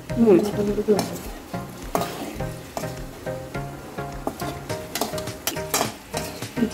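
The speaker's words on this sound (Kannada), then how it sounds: "ಒಂದು 2 ನಿಮಿಷ ಫ್ರೈ ಮಾಡಿ ಸ್ವಲ್ಪ ಕಲರ್ ಚೇಂಜ್ ಆಗಬೇಕು. ನಿಧಾನ ತಿರುಗಿಸ್ಬೇಕಾಯ್ತು." Masala frying in a pan and stirred slowly for a couple of minutes for egg biryani, a steady close sizzle broken by repeated spoon scrapes and light clinks against the pan, with no talking.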